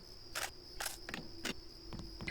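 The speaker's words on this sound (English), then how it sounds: "Those insects are pretty loud." Crickets chirping in the video game Deus Ex, a loud steady insect trill with a sustained high tone, punctuated by several short bursts of game sound roughly every half second.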